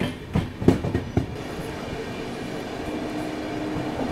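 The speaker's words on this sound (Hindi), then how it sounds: "इसी के साथ मक्सी अपनी ट्रेन ने स्किप कर दिया है।" Ahmedabad Gorakhpur Express train running through Maksi station, a steady rumbling roar with a few sharp clacks early on, continuous and fairly close.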